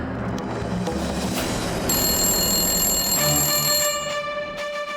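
A telephone rings in a loud, sustained bright tone that starts partway through and continues with brief pauses, over a dense background of music or drama sound.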